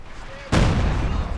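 A sudden loud artillery barrage lands in a Company of Heroes 2 match: a heavy blast at mid-clip opens into sustained rumbling explosions that fill the rest, following a quiet, faint stretch.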